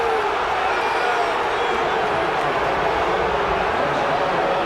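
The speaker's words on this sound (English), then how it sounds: "Listen to the crowd." A basketball arena crowd at an NBA game between the Cleveland Cavaliers and Chicago Bulls roars in a dense, continuous wash of noise, loud and unbroken across the whole stretch.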